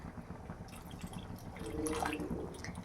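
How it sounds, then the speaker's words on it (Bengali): Water is poured into peas ghugni cooking with mutton fat, a soft close splash and trickle that swells briefly near the end, with no talking. "আমি এবার এটার মধ্যে জল দিয়ে দিয়েছি, আর একটু দিয়ে দিলাম"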